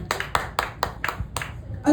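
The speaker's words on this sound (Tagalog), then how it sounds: "O isang palakpak para sa Panginoon" A church congregation claps in about six distinct, evenly spaced hand claps praising the Lord, close and rhythmic, ending as a voice begins.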